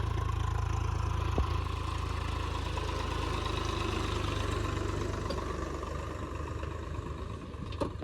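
A tractor engine idles and runs steadily nearby, a low continuous rumble that eases slightly toward the end, with a brief knock partway through.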